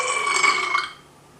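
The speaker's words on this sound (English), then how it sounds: "this one's called the belch" A single drawn-out belch, loud and close, lasting about a second before trailing off into quiet.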